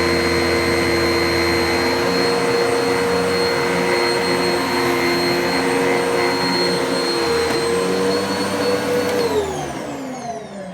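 A Kenmore Progressive bagless upright vacuum cleaner, also sold as the Panasonic JetForce Perform, runs with a loud, steady motor whine and airflow roar that holds evenly for about nine seconds, then starts to wind down near the end.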